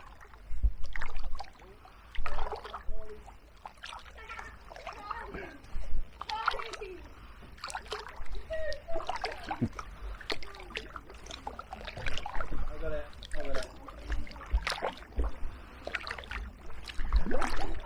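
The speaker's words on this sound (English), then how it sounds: "now paddling back upstream to Fordwich" Paddle strokes dip and splash as a small craft is paddled upstream on the River Stour in Kent toward Fordwich, with irregular nearby splashes running under frequent talking voices.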